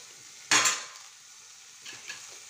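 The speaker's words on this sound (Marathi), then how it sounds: "आता आपण झाकून ठेवलेली भाजी एकदा परत हलवायची आहे." A bitter gourd vegetable dish frying in a pan gives one short, sharp burst of sizzling as it is stirred, then a faint background hiss and a couple of light scrapes.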